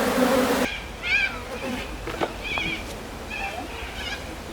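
Honeybees buzzing around a hive frame as a beekeeper clears them from the edges near the queen excluder, a close, steady hum with shifting whining tones, under quiet talk.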